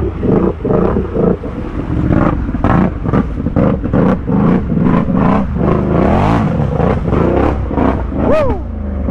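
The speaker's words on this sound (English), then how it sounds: "the RJWC exhaust sounds so good" An ATV with an RJWC exhaust and huge Assassinator tires revs hard on a muddy off-road trail, the engine surging and dropping in loud bursts close to the microphone, with wind noise and a brief shout at the end.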